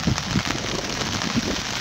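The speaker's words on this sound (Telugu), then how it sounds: "ఎడతెరిపి లేకుండా వర్షాలు కురుస్తూ ఉన్నాయి." Heavy, continuous rain pours during cyclone flooding in a waterlogged residential area, a steady broadband hiss with a few dull drops and splashes close by, heard alone without speech.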